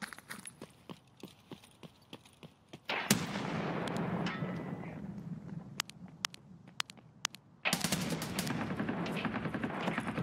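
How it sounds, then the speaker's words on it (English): Explosions and gunfire in Escape from Tarkov, with scattered sharp shots at first, then a loud thudding blast with a long rumbling tail, followed later by a second heavy burst and more crackling shots. "I'm gonna throw a nade over, okay?"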